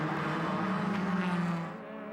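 DTM race cars at Hockenheim in 2001 roar past on track, a loud sustained engine howl with a rising and falling pitch that fades slightly toward the end.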